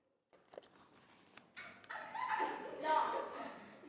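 A schoolchild imitates a dog's barking in a classroom, producing a few rising, yappy vocal bursts that grow louder toward the end of the short stretch, with faint room noise around them.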